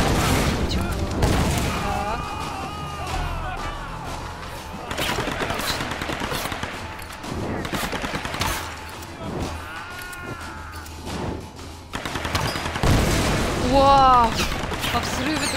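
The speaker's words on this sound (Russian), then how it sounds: "А взрыв это какой?" Bursts of rapid gunfire and booming explosions in Tomb Raider, loud and repeated through the whole stretch, with someone speaking in between.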